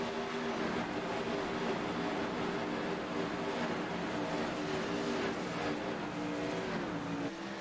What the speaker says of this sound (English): Absolutely amazing to see and hear these engines.